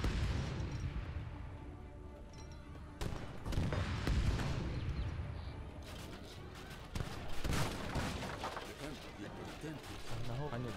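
Cannon fire in Age of Empires 3: Definitive Edition, heard as a series of booming blasts and crackling bursts over game background noise, with someone talking through it.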